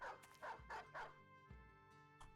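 Several dogs barking in the fantasy battle game Battle Brothers, a quick run of about five sharp yips and barks spread over a couple of seconds, fairly faint and unaccompanied by talk.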